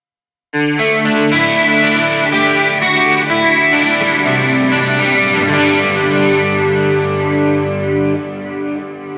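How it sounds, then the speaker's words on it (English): An electric guitar through a Donner Arena 2000 multi-effects unit rings out with a shimmering chorus effect, sustained chords and notes blending into a wide, wavering sound. "I'm gonna bring up the chorus and let's see how this sounds like."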